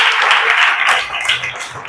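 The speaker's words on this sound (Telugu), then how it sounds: "ఒకసారి క్లాప్స్ కొట్టండి" A group of people at an indoor game session claps together in a dense, loud wash of applause that fades slightly toward the end.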